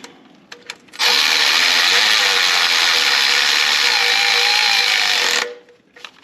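A power tool runs in one steady, loud, high-pitched whir for about four and a half seconds while oil pan bolts go into a 2019 Chevy Blazer 2.5L, with a few faint clicks before and after.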